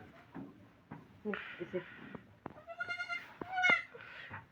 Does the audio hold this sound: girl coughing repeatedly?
no